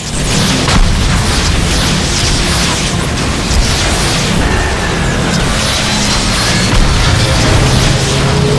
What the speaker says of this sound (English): I'll blast the wheel struts!